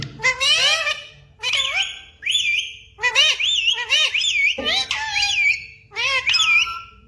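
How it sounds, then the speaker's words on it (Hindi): A pet talking parrot whistles in a series of bright, rising and falling tonal phrases, loud and close, repeated several times with short pauses between them. "मिट्टू सीटी बजा रहा है।"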